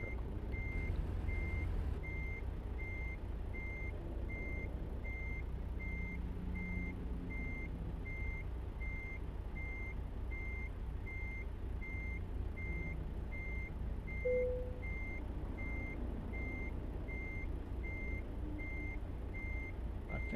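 Reversing alarm on a big rig backing into a parking slot in American Truck Simulator: steady, evenly spaced electronic beeps repeating for about twenty seconds over a low diesel idle rumble, faint and without talk.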